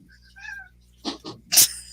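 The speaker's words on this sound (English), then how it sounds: "cats showing up during live streams would not be a good day without cats" A house cat gives a brief meow indoors during a livestreamed Mancala board game session, followed by a couple of soft, short sniffs or snorts nearby.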